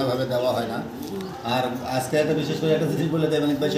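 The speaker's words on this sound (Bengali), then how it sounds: "ককা কবুতরের ডাকে আজকে পুরো ভিডিওতে দর্শক আপনারা শুনছেন আর শুনবেন" Koka pigeons coo in low, repeated calls running beneath a man's steady, close talking throughout.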